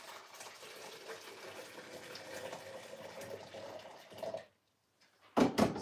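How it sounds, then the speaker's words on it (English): Hot water poured in a pastry kitchen to warm a cake scraper, a steady splashing stream with trickling, then a brief silence and a short louder splash. "So I just pour a hot water in case of my scraper later."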